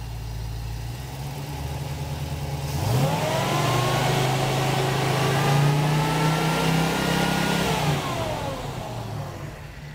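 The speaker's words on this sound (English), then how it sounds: "had my buddy rev the engine up a little bit" A car engine with a Holley Sniper EFI and a magnetic pickup distributor idles, then its revs climb and hold high for several seconds before dropping back to idle, loud and close, with no talking.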